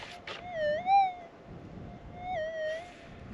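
Metal detector signal over a gold nugget target: a warbling electronic tone rises and falls twice, with a short gap between, over faint ground hiss, with no talking.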